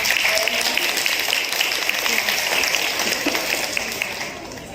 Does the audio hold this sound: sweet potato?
no